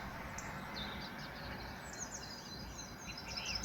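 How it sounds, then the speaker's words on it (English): Birds sing on a warm morning in the Polish Świętokrzyskie mountains, heard from a small room: faint, distant chirps and trills scattered over a steady background hiss. "You can hear the birds are singing."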